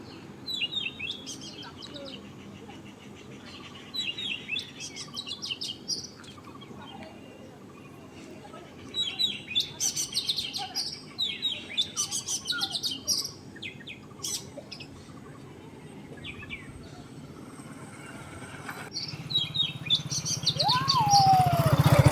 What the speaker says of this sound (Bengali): এত সুন্দর পাখির ডাক শোনা যাচ্ছিল